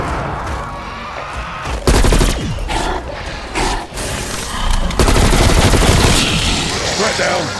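Bursts of automatic gunfire and booming shots ring out in Cold War zombies on the Firebase map, loud and repeated over several seconds amid busy game noise and brief voiced callouts.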